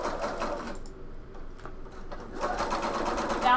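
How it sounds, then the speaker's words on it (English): Viking sewing machine fitted with a Teflon foot top stitching a seam on a bomber jacket, running in close, steady mechanical whirring bursts with a short slower stretch in the middle. "what I'm doing now is I'm just going to top stitch"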